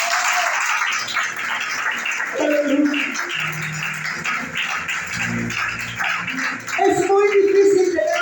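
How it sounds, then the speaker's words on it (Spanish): A church congregation applauds in a steady wash of clapping at moderate level, while a preacher's voice keeps speaking over it. "Denle ese aplauso, iglesia"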